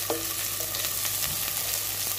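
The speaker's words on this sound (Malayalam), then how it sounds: "നമ്മൾ നേരത്തെ അരിഞ്ഞു വെച്ച സ്പ്രിംഗ് ഓണിയൻ്റെ വൈറ്റ് പോർഷൻ അതിലേക്ക് ഇട്ട് കൊടുക്കുക" Chopped white parts of spring onion dropped into hot oil in a pan while making chilli chicken, giving a brief, even, close hiss of frying with faint stirring.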